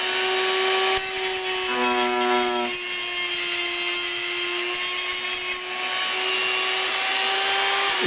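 Power tool cutting back an edge on a part of a Novanta Ro Jett 90 model plane, a steady high whine with strong harmonics running continuously throughout, briefly shifting pitch near the start, close and loud with no talk.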